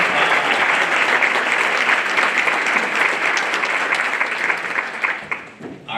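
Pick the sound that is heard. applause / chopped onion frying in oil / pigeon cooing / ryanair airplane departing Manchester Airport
applause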